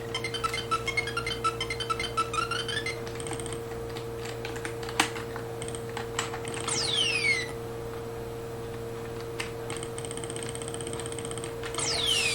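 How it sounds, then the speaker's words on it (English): Computer keyboard keys tapped in quick bursts to play an emulated NEC PC-88 game, soft clicks mixed with beeping chiptune game sounds and sweeping electronic effects over a constant hum. "So I'm using the keyboard to play this."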